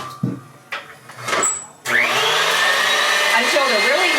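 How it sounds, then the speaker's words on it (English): An electric hand mixer whirs steadily as it beats three eggs until light and fluffy, starting after a few clicks and handling knocks, loud and close, its pitch shifting slightly as the beaters move through the bowl. "we want to beat these 3 eggs"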